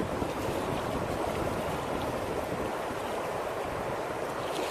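River water rushing from Manitou into the Amable de Fond River, a dense, steady broadband roar heard close and continuous throughout, with no voices.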